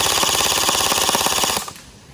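An airsoft rifle fires a rapid full-auto burst, a dense run of sharp mechanical cracks in steady rhythm for about a second and a half before cutting off, close and loud in an outdoor battle ground.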